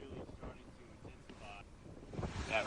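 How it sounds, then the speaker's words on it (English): Hurricane Laura's wind and rain roar and gust at a coastal hotel as it makes landfall as a Category 4 storm, with waves washing in and microphone buffeting throughout. "That rain picking up, the wind picking up"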